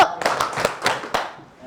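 A classroom of students does a rhythmic clapping game with one clap per beat, producing a run of sharp, close claps in a steady pattern that fades at the end.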